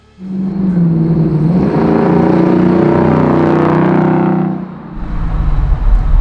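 A flared 1965 Ford Mustang Fastback restomod's V8 roars loudly as it accelerates, a deep rising rumble held for several seconds before the throttle lifts and it settles into a lower burble, heard from close by.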